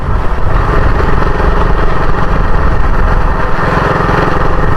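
Motorcycle engine running on a rural road near Lipa and Padre Garcia, Batangas, a loud, steady close drone that holds without a break and carries no voices.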